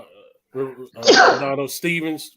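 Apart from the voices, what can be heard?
sneeze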